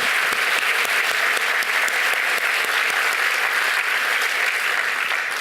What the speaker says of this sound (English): Please give them an applause also.